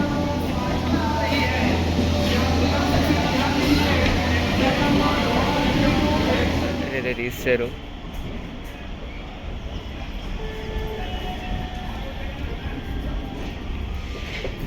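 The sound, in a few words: Raipur–Durg MEMU train at station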